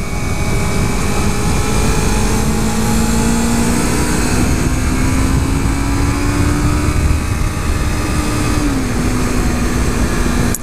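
A 2015 Yamaha R3 motorcycle engine drones loudly on a test ride, holding a steady tone with wind rush and a slight pitch drop late in the run.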